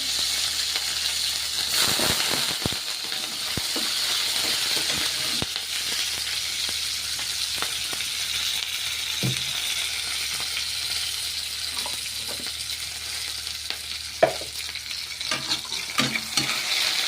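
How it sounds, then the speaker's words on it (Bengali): A steady, close sizzle of onions frying in a hot pan with five-spice seeds for a mixed vegetable curry, with occasional scraping and stirring clicks over the constant crackle. "এই পেঁয়াজ ভাজা চলছে।"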